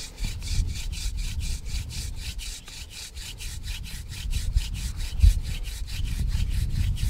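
Wooden spindle grinding in a notch during a primitive friction fire, with fast rhythmic scraping strokes repeating several times a second, steady and close over a low rumble, with no voices.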